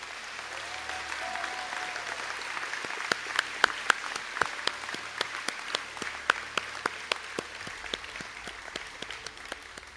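Applause from a seated audience for graduates at a college conferring ceremony, a steady wash of many hands with sharper individual claps standing out, moderately distant and filling the hall.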